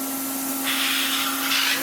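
A restored Hoover Sensotronic Total System 20 vacuum cleaner runs with its crevice tool fitted, a steady close whine and airy hiss whose suction note rises briefly twice as the nozzle is moved.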